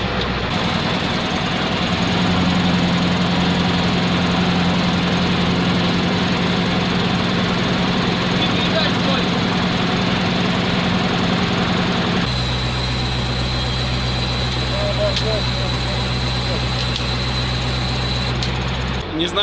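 A ZIL truck engine runs loudly at a raised, steady pitch, then drops to a lower, rougher idle about two-thirds through, with brief voices in the background.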